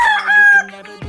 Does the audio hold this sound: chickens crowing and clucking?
yes